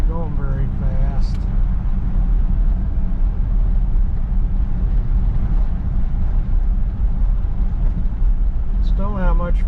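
A 1959 Chevrolet Bel Air rolls slowly through Cranbrook, its low steady engine and road rumble continuous and close, with brief voice-like bursts near the start and end.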